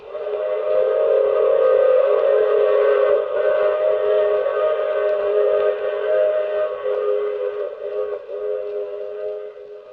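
Train sound effect from an old-time radio drama, a loud sustained chord-like whistle blast that holds steady for several seconds with a faint rumble underneath, no voices.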